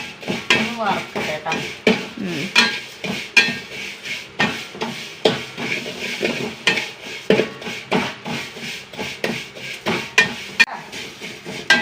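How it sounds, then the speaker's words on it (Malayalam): Vermicelli (semiya) being fried in a pan gives repeated scraping and clinking of a spatula against metal, rhythmic and close, with a voice briefly heard in the background. "സേമിയ ഒന്ന് വറക്കട്ടെ"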